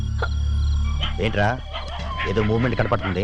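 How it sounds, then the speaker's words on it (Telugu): Dogs bark at night somewhere off from the listener, a few sharp barks and yips mixed beneath a man's low, tense talking. "ఏమీ లేదు, కుక్కలు అరుస్తున్నాయి అంతే."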